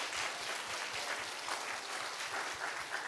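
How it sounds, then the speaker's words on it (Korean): A church congregation at a Korean Sunday worship service claps together in steady, continuous applause that fills the room at moderate volume, with no voices over it. "우리 박수 한번 쳐줄까요?"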